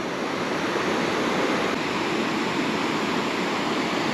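Steady roar of a waterfall at a river dam on the Svicha River, a dense, continuous rush of falling water that stays loud and even throughout, with no voices.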